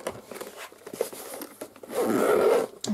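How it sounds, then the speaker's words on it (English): A zipper on a diamond painting storage case is drawn shut, a close, raspy ripping run of small ticks that swells into a long, steady zip near the end, with no talk over it. "There's 2 zips, so you can just meet them in the middle like so."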